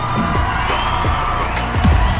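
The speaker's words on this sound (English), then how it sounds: "They're cheering at the number going up." Crowd cheering and whooping from the Q-UP video game, a steady bright wash of cheers with short swelling bursts throughout, fairly loud and with no talk over it.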